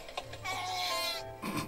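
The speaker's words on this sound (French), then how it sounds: "C'est une chèvre." A goat in an anime gives one long, wavering bleat lasting over a second, clear and fairly loud, with a shorter bleat after it and faint background sound.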